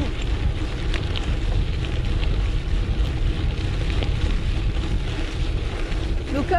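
Loud, continuous wind buffeting the microphone at a gravel cycling centre, a rough low roar with no letup.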